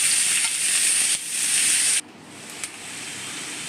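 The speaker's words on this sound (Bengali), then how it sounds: "এবার কড়াইতে তেল দিয়ে তার মধ্যে পেঁয়াজ কুচিগুলো দিয়ে দেবো।" Onion, green chili and crushed garlic sizzle in hot oil in a wok, a loud steady hiss that drops sharply to a quieter fry partway through, with a faint clink of stirring after.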